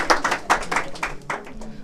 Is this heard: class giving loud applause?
yes